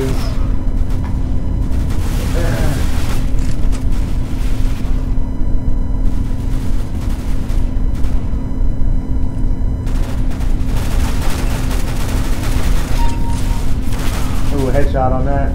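Gunfire in the video game CS:GO cracks in scattered shots and bursts over a steady background hum, with a person talking throughout.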